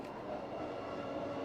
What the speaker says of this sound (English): That's the train there, guys.